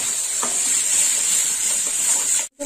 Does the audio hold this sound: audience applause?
no